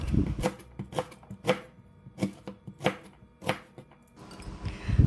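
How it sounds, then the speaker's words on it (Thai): A knife chops washed lemongrass into small pieces on a cutting board, about a dozen crisp, evenly spaced strikes, close and clear with no talking. "เมื่อเราล้างทำความสะอาดตะไคร้แล้วก็นำมาหั่นเป็นชิ้นเล็กๆแบบนี้ค่ะ"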